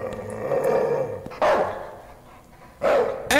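A dog barks in the horror video game Night People, a few loud separate barks with pauses between them over a low, murky background.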